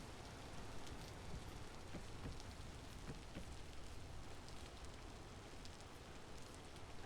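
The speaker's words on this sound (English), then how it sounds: "Oh, the sounds of the rain." Steady rain in the survival sandbox game Vintage Story, a dense continuous patter with scattered sharper drops, even and fairly close throughout, with no voices.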